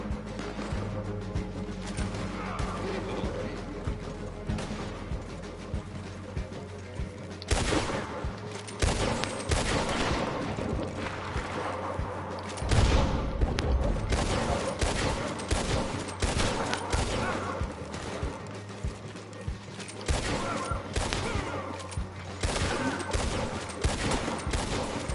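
Repeated video-game gunfire at an enemy, bursts of shots firing fairly loud over a busy game soundscape with music and effects, pausing and resuming several times.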